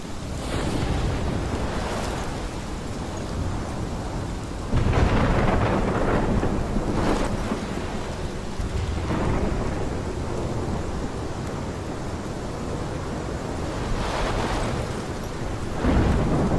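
Thunderstorm in the video game Life Is Strange Episode 5, a constant roar of wind and rain like heavy surf, with several rolling thunder cracks rising above it, loud and close, with no voices.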